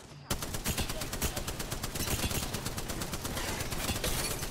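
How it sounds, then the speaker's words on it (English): Rapid automatic gunfire in Apex Legends, a loud, dense burst of evenly spaced shots that starts abruptly and rattles on steadily for several seconds. "Oh, I'm getting shot."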